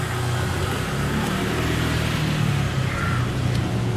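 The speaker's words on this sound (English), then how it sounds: "If you hear cars, I'm sorry. I'm filming this outside" Cars passing outdoors, a constant low rumble of traffic in the background, steady and fairly faint, with no talking over it.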